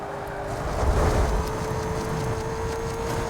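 A race car in Need for Speed Most Wanted roars at high speed, heard as a steady loud engine and wind rush with a faint high whine running throughout.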